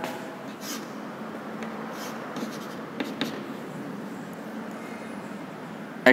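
Marker or chalk writing on a board during a lecture, heard as faint, steady scratching strokes over low room hiss, close and continuous, with no talk.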